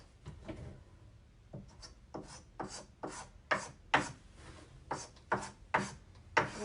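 Paint is scraped onto wooden furniture for a chipped farmhouse finish, a series of short rasping strokes in a loose rhythm, each one swelling and fading, close and quiet with no talking.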